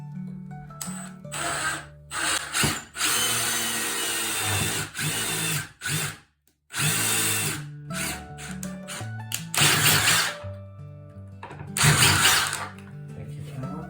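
A power drill with a screwdriver bit drives screws into a wall while curtain brackets are fitted, sounding as repeated loud whirring bursts of varying length, separated by short pauses and a few ratcheting clicks.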